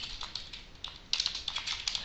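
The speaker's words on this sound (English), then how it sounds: "So in this case, I'm just typing away." Quick, light clicks of fingers typing on a computer keyboard, a steady close run of keystrokes with a short pause midway and no talking.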